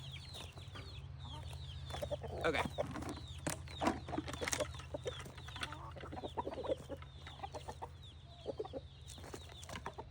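Chickens cluck and chirp repeatedly around a bucket chick feeder being built in a backyard coop setting, close and busy throughout, with a low steady hum beneath and a brief spoken word.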